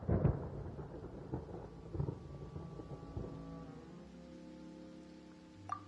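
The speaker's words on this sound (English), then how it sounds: "Paimon hears thunder!" Thunder rolls through a stormy scene in the video game Genshin Impact: a faint, low rumble that swells at the start and then trails off under quiet ambient tones.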